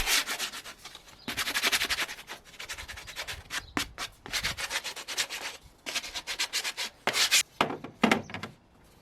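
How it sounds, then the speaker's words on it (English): Sandpaper rubs against freshly sawn wood pieces for a Eurorack case in short bursts of scratchy strokes, close up and moderately quiet, with small pauses between passes. "And a quick sanding tidies them up."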